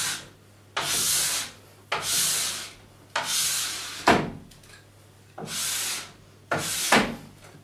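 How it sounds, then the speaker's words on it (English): A plastic scraper strips wax from a ski base in six long, even strokes, each a loud rasping scrape split by short pauses, close up and with no talk. "we're going to scrape it all the way down. Making sure we're taking all the wax off."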